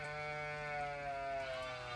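Sheep hungry for grain give a sustained, wavering bleat lasting the whole moment, fairly close and steady, with a low hum underneath.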